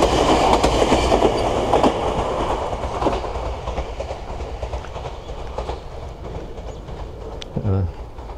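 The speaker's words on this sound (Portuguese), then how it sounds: "Hoje está passando trem direto aqui." A train rolling past in Japan, a steady loud rumble with rhythmic clickety-clack of wheels on rails throughout, ending in a brief squeal near the end.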